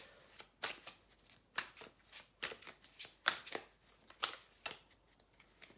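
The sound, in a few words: cards being shuffled and laid out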